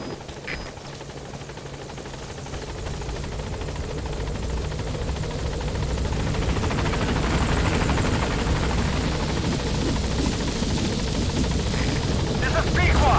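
A helicopter arrives at a landing zone in Metal Gear Solid 5: The Phantom Pain, its steady rotor roar swelling louder as it draws near, with voices speaking over it.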